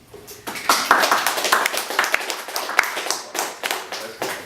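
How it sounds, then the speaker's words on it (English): Several people clap together in a quick, scattered burst that carries on steadily, fairly close and lively, with no voices over it. "Feel free to clap if you want."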